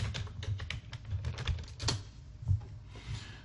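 Quick, irregular keystrokes on a computer keyboard, close and fairly quiet, clicking in short bursts with no talking.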